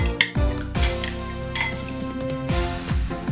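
Pork stir-fried in a pan, with a metal utensil clanking and scraping against the pan in a steady rhythm of close, bright clinks, alone with no talk.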